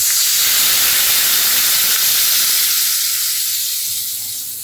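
Water hits frying garlic in a hot pan and sends up a loud, close, continuous hiss of steam that slowly fades toward the end.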